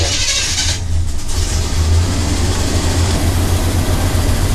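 A 1977 Chevy G20 van engine running at a high idle, a loud, steady, rough rumble close by, with a slight rise in revs near the start.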